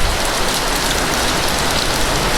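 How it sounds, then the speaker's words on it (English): Heavy rain pours down in a dense, steady hiss of drops hitting surfaces, loud and continuous with no pauses or voices. "It's raining a lot."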